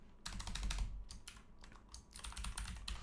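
Rapid typing on a computer keyboard while entering Java code, dense bursts of key clicks with short pauses, close and steady, no voice.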